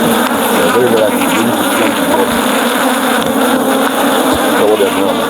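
A dense, loud swarm of honeybees hums around a beehive in Nigeria, a constant buzzing drone with faint background rumble and no clear speech.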